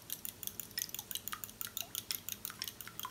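Milk, eggs and Worcestershire sauce are whisked together in a bowl for meatloaf, giving a quick, regular clinking and tapping of utensil against the dish, faint and close.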